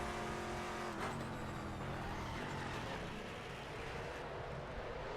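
A Saleen S7R GT race car in RaceRoom Racing Experience roars loudly and continuously at high engine revs, with the pitch shifting slightly as it pushes toward a corner, and no talk over it.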